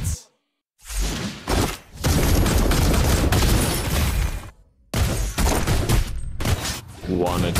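Granger's gun fires in the Mobile Legends video game as dense bursts of rapid shots, broken by brief silent gaps, loud and close, with whooshing game effects.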